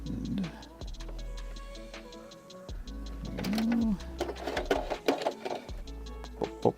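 A sewing machine stitches pink fabric for a puppet in short bursts of rapid mechanical ticking and whirring, separated by pauses. A little bumping from handling the work comes through, and no one talks.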